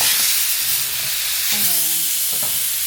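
Butter sizzling in a frying pan over medium-high heat, a steady loud hiss with faint clinks of a utensil now and then, no talking.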